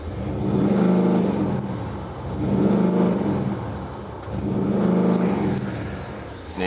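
Sporty synthetic exhaust note piped in by a Maserati Ghibli in sport mode, a low droning burble that swells and fades three times in steady waves, close and fairly loud with no talking.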